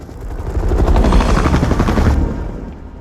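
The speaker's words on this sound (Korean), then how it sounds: "개가 짖기 시작하는데 곧이어 헬리콥터 소리가 들려옵니다" A helicopter's rotor chops loudly and rhythmically at night, swelling in volume then fading as it passes.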